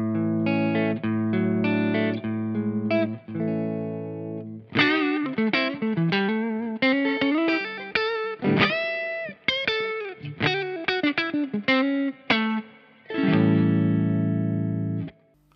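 Telecaster through a Thorpy FX Heavy Water dual boost pedal into a Marshall amp, boost set low with the lows at noon: strummed chords followed by a busy run of picked single notes and bends, ending on ringing chords, loud and close with no talk.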